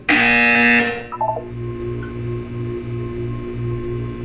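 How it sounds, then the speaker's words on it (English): A loud electronic buzzer in the video game Portal 2 blares for about a second, then cuts to a low pulsing hum with a few soft electronic blips. "You will hear a buzzer."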